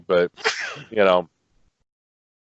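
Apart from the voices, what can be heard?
sneeze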